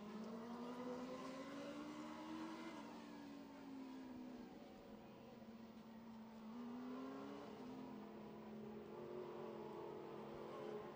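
A tow truck drives out onto a sprint car race track, its engine a steady moderate drone that rises and falls in pitch with the throttle, heard at a distance over the open track.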